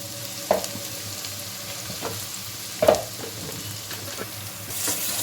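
Ginger garlic paste fries in hot oil for a tomato and drumstick curry, a steady close sizzle with a couple of brief stirring knocks, no voices.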